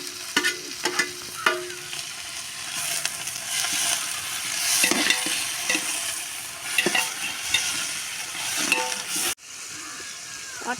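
Ginger and garlic sizzle loudly in hot oil with vegetables for a vegetable biryani, with a steady crackling fry and occasional scraping stirs. It continues evenly, then cuts off sharply near the end.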